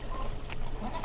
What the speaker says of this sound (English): Got little baby goats.